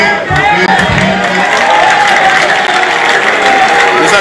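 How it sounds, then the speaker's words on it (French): Loud crowd at a political campaign rally cheering and applauding, a dense continuous roar with clapping that holds steady throughout, with some voices mixed in. "Les acclamations qui fusent,"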